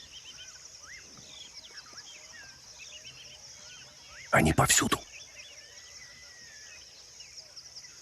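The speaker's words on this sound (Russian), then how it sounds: "Да, птицы шумят." Birds chirp and call in the Kenyan savanna near Suswa and Mai Mahiu at dusk, scattered faint whistles over a constant high insect trill, briefly covered by someone speaking.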